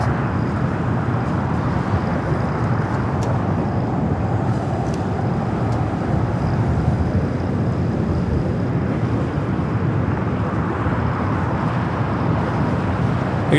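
A 14-year-old Boeing 777 freighter jet landing at Los Angeles International Airport gives a steady, broad roar that holds at constant loudness throughout, with no speech over it.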